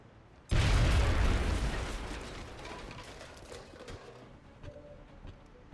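A grenade blows up in the XCOM: Long War video game, a sudden loud broadband blast that starts abruptly and fades over a few seconds into a low rumbling tail with faint clicking debris.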